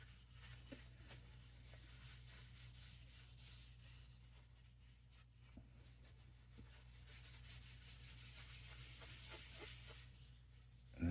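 Steel wool scrubs oil into an old, dry wooden stock of a Remington rolling-block carbine, a faint, steady, close rubbing rasp that continues without pause.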